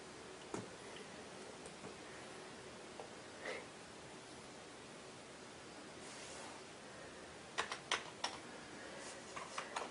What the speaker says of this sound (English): And there we have keyboard action.